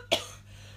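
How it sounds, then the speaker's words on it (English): One sharp, close cough from a woman, a single short burst that fades quickly into quiet room tone. "I'm going to cough again."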